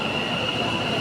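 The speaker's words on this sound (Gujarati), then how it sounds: "ટ્રેન આવી ગઈ છે" A Gandhinagar metro train pulls into the station with a steady, loud rolling rumble and a thin, sustained high wheel squeal.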